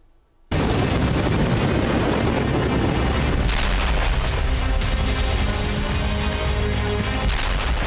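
Bombardment on Iran heard as a dense, continuous barrage of loud explosions and artillery booms, with heavy rumbling blasts layered over one another after a quiet start.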